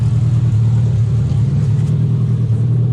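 An Opel engine fitted with headers and a glasspack exhaust runs loud and steady with a deep, continuous low rumble, close by, with no talk over it.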